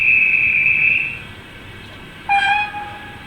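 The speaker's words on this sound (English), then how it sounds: "Guard's whistle on function 6 with acknowledgement whistle when released." A guard's whistle from a Rapido 15xx pannier tank OO gauge DCC sound-fitted model locomotive: one shrill steady whistle for about a second, a short pause, then a brief two-tone acknowledgement whistle, close and clear over a quiet background.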